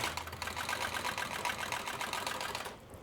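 A sewing machine stitches black rustic shark leather onto a Road Commander motorcycle boot, running with a steady, close mechanical chatter for nearly three seconds before stopping.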